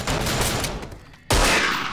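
Gunfire in a multiplayer shooter video game: a dense, continuous clatter of shots, a brief dip, then a sudden loud close blast that carries on.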